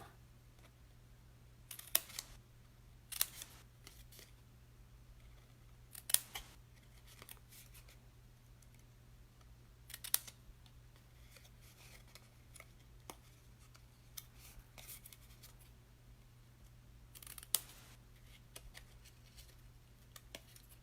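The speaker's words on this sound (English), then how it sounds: "Cut right up and cut that first corner off. Just cut the flap straight up." Scissors cutting up the flap of a small stationery cardboard box, a few sparse, faint snips spaced several seconds apart over a low steady hum, with no talk.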